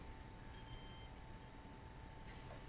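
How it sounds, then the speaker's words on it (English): An Align T-Rex 150 DFC RC helicopter's controller sounds programming beeps in setup mode: a short high electronic tone pattern, then a pause and another brief burst, faint over a steady hum. "That long beep is five."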